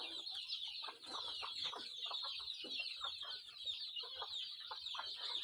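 Country chickens cluck softly and chicks cheep busily around a hen, about forty chicks in all, with a continuous chorus of high peeping over low clucks close by in a dim coop.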